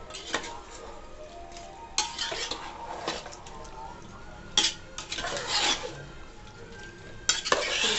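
Washed chicken pieces hit a hot pan already seasoned with salt and turmeric for an Andhra-style gravy curry, giving a steady sizzle with repeated scraping and clanking strokes of a spoon against the pan, close and moderately loud.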